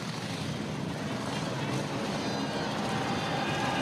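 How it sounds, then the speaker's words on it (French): Harley-Davidson motorcycles arriving in a biker procession at Place de la Madeleine in Paris, engines rumbling and revving in a steady, loud roar of massed bikes, with crowd noise blended in throughout. "vous entendez les vrombissements. Et ce sont les motards qui sont en train d'arriver."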